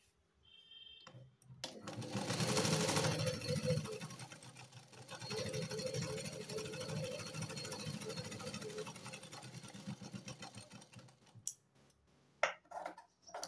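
A sewing machine stitches lining onto a blouse yoke, running in a steady buzzing burst for several seconds, pausing, then running again before stopping, with no talk.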